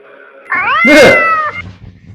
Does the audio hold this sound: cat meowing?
yes